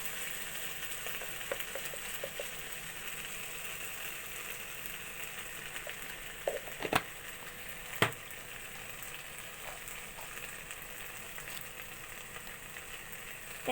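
Rohu fish fries in a pan of hot oil with a steady, hissing sizzle. A few sharp clicks of a utensil stand out near the middle.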